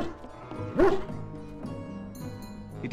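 A dog barks once, loud and close, in the fantasy role-playing game Dragon Age: Origins, followed by faint jingling and soft ambient game sounds.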